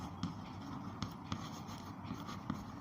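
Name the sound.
writing out a maths equation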